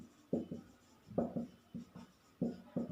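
Writing during a Hindi-language class 10 physics lesson on reflection of light, heard as quiet, close scratching strokes in short bursts that repeat roughly every second, with no talk over them.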